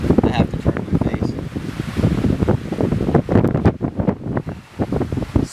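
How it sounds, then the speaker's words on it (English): Strong wind gusts buffet the microphone at a lakeside campsite in Algonquin Park, roaring with loud, uneven surges and carrying a wash of water and waves behind it, with no talking. "So when the wind really comes up, I actually get a little mini dust wave."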